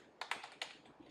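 A few crisp keystrokes tapped on a computer keyboard while entering a hostname, quiet and close with short irregular clicks and no talking.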